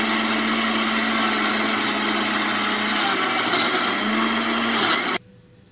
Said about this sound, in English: I'm just going to blend this. We need to blend this one.